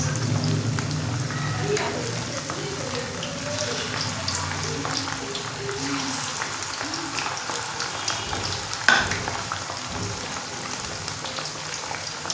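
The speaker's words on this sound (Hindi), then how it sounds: "ये चिकन हम फ्राई करेंगे, ठीक है।" Chicken pieces for a paratha roll frying in hot oil over a medium flame, a steady dense crackling sizzle throughout, close and continuous, with a brief sharper pop near the end.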